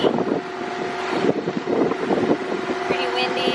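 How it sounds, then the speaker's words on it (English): Strong wind buffets the microphone over a rumbling longboat engine and choppy waves on a rough ride, a continuous rough roar with a voice briefly audible. "Pretty windy, pretty wavy."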